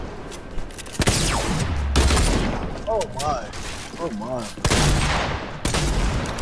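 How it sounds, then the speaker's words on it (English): Bursts of sharp gunfire crack repeatedly in a game soundscape, loud and close, while a voice briefly exclaims amid the shots. "I was gonna hide, but then I heard gunshots."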